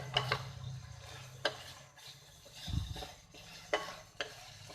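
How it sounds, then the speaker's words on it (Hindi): A spoon scrapes and stirs a thick coconut mixture in a pan for chocolate coconut sweets, with soft repeated strokes and occasional sharper taps against the pan, close and fairly quiet. "इसलिए इस पॉइंट पे इसे मुसलसल हिलाते रहें।"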